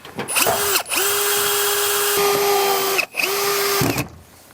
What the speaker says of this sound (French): Et je fixe avec les vis V7 qui sont des vis décoratives.